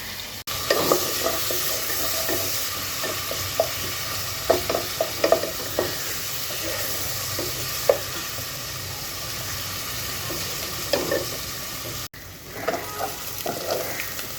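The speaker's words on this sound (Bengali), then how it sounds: "পেঁয়াজটাকে একটু ভেজে নেব" Onions fry steadily in a pan, a dense, close sizzle punctuated by frequent stirring knocks and scrapes, with a brief break near the end.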